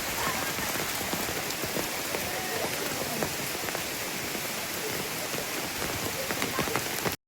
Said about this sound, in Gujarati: આ વરસાદની ખૂબ એટલે ખૂબ જરૂર હતી